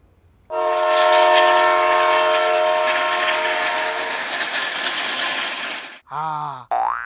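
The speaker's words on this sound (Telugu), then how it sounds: "ట్రైన్ నా మీదకి వెళ్ళి ఇప్పుడు పైనుంచి వెళ్ళిపోద్ది ఇలా" A passing train blasts a long, loud horn over its rumbling roll as it runs over a person lying on the tracks, then the sound cuts off abruptly, followed by a couple of short sliding tones.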